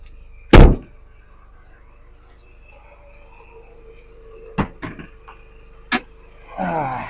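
Hood release of a Mini Cooper S being popped, a sharp loud clunk near the start followed later by a few quieter clicks and knocks, then brief rustling, with no talk.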